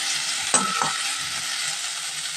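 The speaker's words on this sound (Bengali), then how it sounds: "দিয়ে ভালোভাবে ভেজে নেব" Okra (vendi) frying in a pan with salt and turmeric, a steady bright sizzle with a couple of quick stirring scrapes near the start, and no talk.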